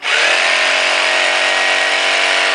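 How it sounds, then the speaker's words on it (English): A Hitachi DH25DAL SDS Plus rotary hammer drill running in its power-save mode gives a loud, steady motor whine with a constant buzzing hammer action that holds evenly throughout. "you simply select the power save. That slows down the motor, slows down the hitting power"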